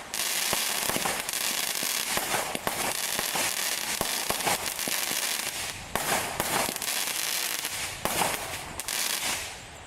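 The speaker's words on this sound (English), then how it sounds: "There's some strobing bursts in that. They look a decent size burst from the video," Aldi firework cake from 2025 firing continuously for about ten seconds, loud sharp strobing bursts and dense crackle layered over one another, with no talk.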